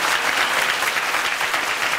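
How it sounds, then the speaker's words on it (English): Audience applause at a Jaguar Formula E racing event in Palm Beach, a dense, steady burst of many hands clapping close and loud for about two seconds, with no talk over it. "round of applause, please, for our drivers, Nelson, Mitch and Ho Tin."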